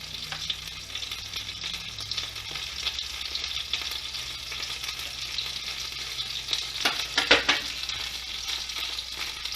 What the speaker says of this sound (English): heat it in a pan and place your dumplings inside the pan, and you're going to allow them to cook until one side of the dumpling